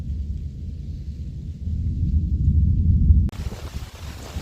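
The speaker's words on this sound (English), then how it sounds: "this thunder is amazing sounding in the background" Deep, rolling thunder rumbles through a thunderstorm at a campsite, building in loudness, then gives way abruptly to a broad rain-and-wind hiss.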